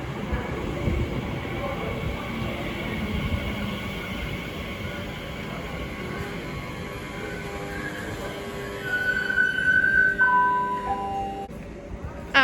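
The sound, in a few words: Great Western Railway IET train passing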